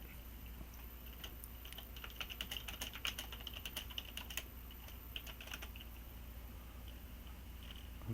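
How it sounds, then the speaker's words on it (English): Keys clatter on a computer keyboard while a chat message is typed during a game session, quick irregular clicks fairly close and quiet, with no voice over them. "I'm gonna type in the chat."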